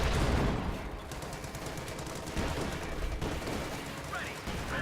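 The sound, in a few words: gunfire in the video game Company of Heroes 2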